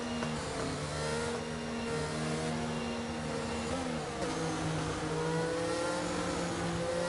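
Race cars circling behind the safety car in a racing video game at the Austria round, a steady droning engine whine with gently shifting pitch, continuous and moderately loud, no voices.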